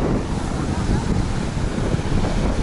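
Ocean waves breaking and surging on the shore at Miami Beach, a steady, loud broadband roar of surf with wind buffeting the microphone throughout.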